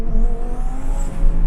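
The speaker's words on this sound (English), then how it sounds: "once those turbos start spooling, it just makes some of the most insane tornado violent noises" Twin turbos spooling on a 1000HP twin-turbo Audi R8, a loud close whooshing whine over a deep engine roar, rising briefly in pitch.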